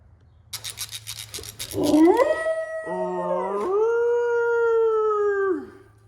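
A dog lets out a long, rising howl, close and clear, holding a wavering tone for several seconds before trailing off.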